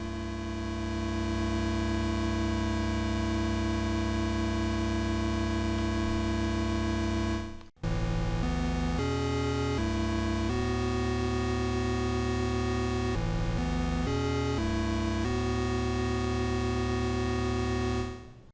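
An Arturia MicroFreak synth in unison mode, its spread set to a slightly detuned fifth, plays dense, buzzy sustained chords that stop briefly, then return as a loud run of shifting held notes with no talking.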